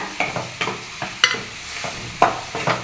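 Prawns sauté in a pan with mint, coriander and curry leaves, a spatula scraping in regular strokes about twice a second over a close, steady sizzle.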